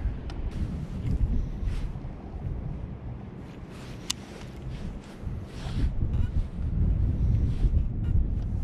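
Steady wind buffets the microphone on a fishing boat out on open water. The rumble gusts and swells, with faint splashes and knocks from the boat underneath.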